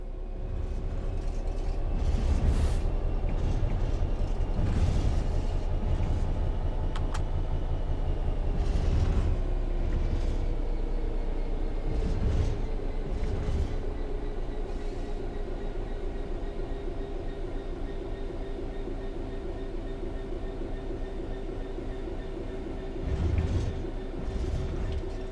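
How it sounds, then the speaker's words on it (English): Locomotive train coasting on level ground in Train Sim World 4, a steady rumbling drone with a gradually falling engine tone and occasional rail clunks, continuous and alone without speech. "The train will then coast on level ground, and the train will only slow down very gradually."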